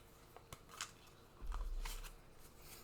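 A pack of Pokémon trading cards from a booster being shuffled by hand: a brief, soft riffling burst in the middle, with a few faint clicks and taps before it, all quiet and close.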